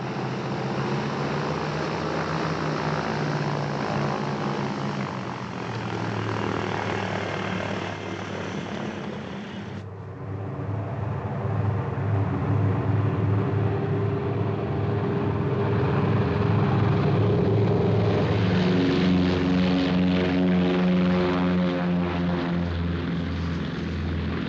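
A propeller airplane's engine roars steadily and loudly, then surges and builds as the plane takes off, close and continuous with no talk.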